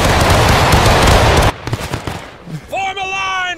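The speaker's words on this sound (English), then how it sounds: "Firing by volley" A loud, dense burst of musket volley fire from the Civil War video game War of Rights, a sustained crackle lasting over a second, followed by shouted voices and a sharp whistle-like tone near the end.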